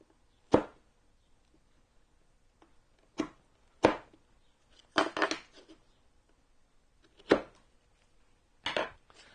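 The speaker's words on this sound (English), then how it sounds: "I'll try and clean that out with a chisel" A chisel clearing debris from a woodworking dovetail joint: six sharp, separate taps and scrapes at irregular intervals, close and distinct against near silence.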